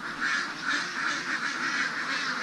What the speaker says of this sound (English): the old ducks are quacking away, they're hungry